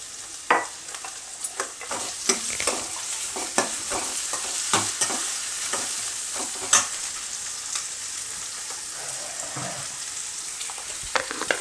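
Crushed onion, green chilli and garlic sizzle steadily in hot oil in a home kitchen, with a spoon stirring and scraping through them in irregular clinks and rustles throughout.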